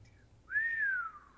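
A single person whistles a clear rising-then-slowly-falling note lasting under a second, close and fairly quiet, preceded by a faint brief whistle.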